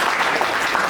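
Applause from a student audience at a campus talk fills the hall, dense and steady clapping close by for the whole moment.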